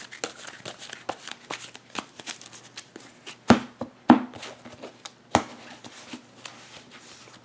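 Trading cards from a Weiss Schwarz KonoSuba deck being shuffled by hand, a run of crisp riffling flicks with a few louder snaps in the middle, close and fairly quiet, with no talk over it.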